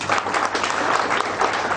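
Audience applause at a BNI business seminar in Korba, Chhattisgarh, welcoming guests on stage: a dense, steady wash of many hands clapping close by, sustained and loud throughout without pause.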